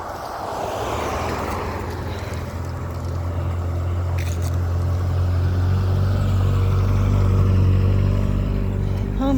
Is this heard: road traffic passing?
yes